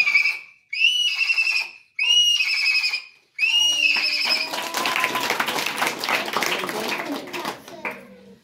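A young boy imitates a horse's whinny with his voice in three shrill, wavering bursts, each separated by a short pause, and loud clapping and cheering from an audience follow.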